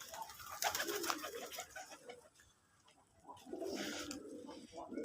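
Desi putul golla pigeons coo in soft, low murmuring bursts, close by, with a brief quiet gap mid-clip before the cooing resumes and some rustling breaks in.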